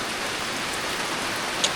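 Steady typhoon rain pours down, a dense even hiss with a few drops landing close by.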